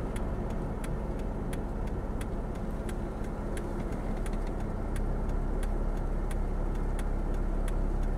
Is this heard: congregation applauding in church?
no